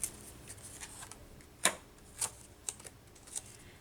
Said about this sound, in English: let's go ahead and peel the backing of this off